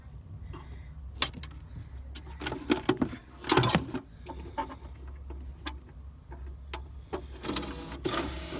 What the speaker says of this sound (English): the CD changer is powered up. It's now cycling through